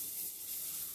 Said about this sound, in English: that's what you want to hear, that sizzling sound